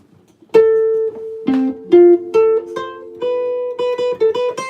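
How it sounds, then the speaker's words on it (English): A sequence of notes is played one by one as an arpeggio on a plucked instrument, each attack clear and ringing, loud and close with no talking. "So that's an arpeggio."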